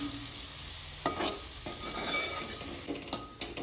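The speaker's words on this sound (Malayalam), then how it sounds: "ഇനി ഇത് നന്നായിട്ടൊന്ന് വഴറ്റി കൊടുക്കുക." Chicken and kanthari chili sauté over a low flame in a pan, with a steady sizzle and scraping stirs and a few clearer knocks of the spoon against the pan.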